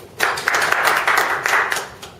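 A round of applause from a training-program audience in a room, steady broadband clapping from many hands lasting about two seconds before tapering off.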